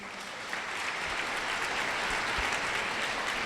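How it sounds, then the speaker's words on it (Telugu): Wedding guests at a Christian ceremony applaud after the vows, a sustained, even patter of clapping that swells slightly and carries on without voices. "చప్పట్లు కొడదామా?"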